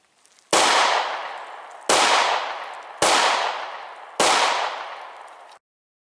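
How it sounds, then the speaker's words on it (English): Four sharp, loud gunshots from a short-barrel firearm loaded with Remington 115 gr JHP rounds, each crack followed by a long decaying echo, spaced about a second apart. "The first one that I'm going to shoot is out of the short barrel"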